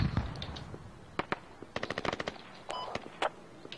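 Automatic and single gunshots crack out in the military shooter game Squad, short sharp bursts spread across a few seconds, some close and punchy, others lighter and more distant.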